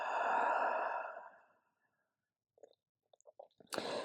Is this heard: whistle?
no